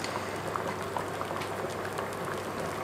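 Bean stew simmering in a pot on the stove, a continuous bubbling and popping burble, fairly quiet and close, with no voices.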